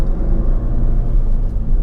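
Steady low road rumble inside a 2017/2018 Mazda 3 being driven hard, a constant deep drone that stays level throughout with no voices.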